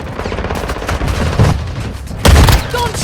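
Gunfire in the mobile shooter Warzone Mobile: a steady din of shots with two heavier bursts, one in the middle and a louder one near the end, all fairly close and loud.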